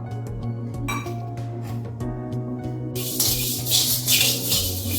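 Chana dal dry-roasts in a pan, grains rattling and clinking against the metal while a spoon scrapes. The rattle turns into a louder, brighter hiss and scatter partway through.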